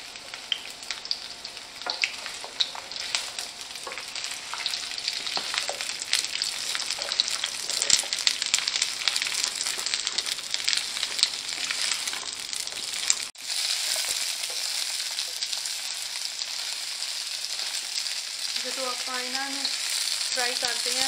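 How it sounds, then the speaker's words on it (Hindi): Okra dropped into hot oil for dhaba-style bhindi masala, a loud continuous crackling sizzle with stirring, easing slightly toward the end where a brief faint voice-like tone appears. "अपना तेल गर्म हो गया है हूँ आप ऐड करेंगे भिंडियां"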